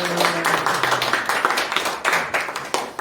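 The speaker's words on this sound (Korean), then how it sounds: "우리 하나님께 영광의 박수 올려드리겠습니다" A church congregation at an Easter Sunday service claps in praise, a lively burst of many hands with uneven rhythmic surges, fairly close and clear, with no speech over it.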